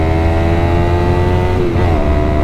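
A motorcycle engine pulls hard in steady close-up drone, its rising harmonic whine shifting pitch briefly as it accelerates under load, loud and continuous without talk.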